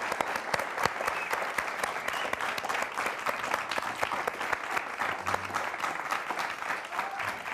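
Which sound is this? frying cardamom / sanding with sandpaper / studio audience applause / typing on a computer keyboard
studio audience applause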